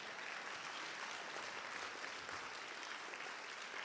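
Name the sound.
church congregation clapping hands in praise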